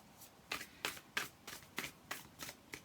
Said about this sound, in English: Shuffling, it's nice to shuffle. It shuffles like a deck of playing cards